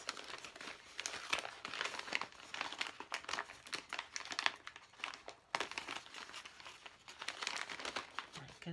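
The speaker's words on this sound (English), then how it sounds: "I just ripped the bag right open." A gift bag from a fall swap, tied and taped, crinkles and rustles as it is ripped open, with bursts of crumpling and tearing plastic close up and a faint voice at moments.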